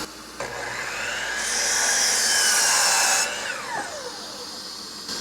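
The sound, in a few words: power saw blade cutting scrap wood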